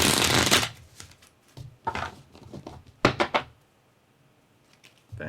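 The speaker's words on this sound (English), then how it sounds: "Toby Benson, you want to give those a shuffle?" A deck of playing cards being shuffled, a loud riffle followed by several shorter bursts of card flicks and bridging, close up with no talk.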